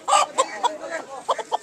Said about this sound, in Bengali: আমি আরো মুরগি দেখাইতেছি আপনাদের